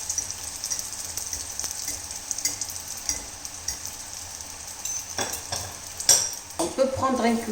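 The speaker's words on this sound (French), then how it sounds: "on va la prendre et on va la plonger dans l'autre poêle" Moroccan sfenj dough frying in a pan of hot oil, a steady soft sizzle with occasional utensil clinks and stirring scrapes, louder clatter toward the end.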